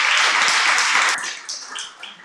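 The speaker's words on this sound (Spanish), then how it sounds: "Dele el aplauso al Señor" Congregation applauding during a Spanish-language Sunday Bible school service in church, a loud, dense wash of clapping that drops away after about a second to a few scattered claps.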